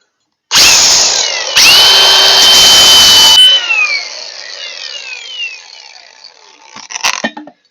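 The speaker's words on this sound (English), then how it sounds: "use a flap wheel." An angle grinder fitted with a flap wheel grinds on a mower deck during a bracket repair on a Wright Stander mower: two loud, harsh whining bursts of about three seconds each. Then the motor spins down and fades, and a few clatters follow.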